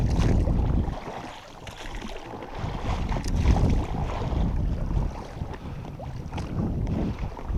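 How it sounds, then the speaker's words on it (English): Rowing a boat across a lake while carp fishing in the Canaries: oars dip and pull in a slow rhythm amid splashing water and heavy wind buffeting the microphone, without speech. "It's quite a long way across, it's a fair old bit of rowing"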